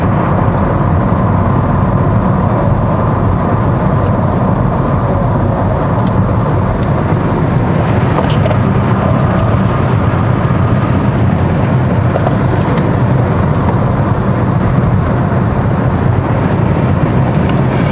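A Kia EV6 GT electric car accelerates hard on a proving ground: a loud, steady, broadband rush of wind and road roar that holds constant throughout, without speech.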